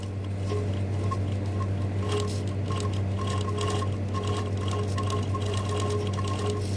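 A sewing machine head set on a table stitches steadily, its motor hum and rapid needle clatter running continuously and fairly close, with no talking.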